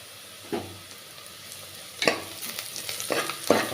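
Sliced onions with turmeric fry in a pan for a goat tripe curry, a soft steady sizzle broken by a few scraping stirs of a spoon, quiet and close with no talking.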